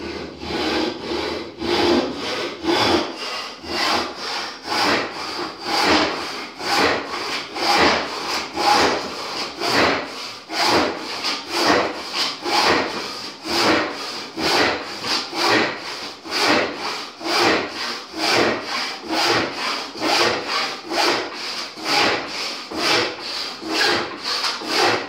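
A hand saw, the Irwin Evo 22in with fine, narrow teeth, cuts through a wooden board in a steady back-and-forth rhythm of many even strokes, close and loud throughout with no talking.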